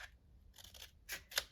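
Scissors snipping through thick Cartabella paper in a few short, crisp cuts, the last two louder and sharper, with quiet pauses between.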